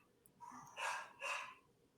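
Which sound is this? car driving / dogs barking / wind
dogs barking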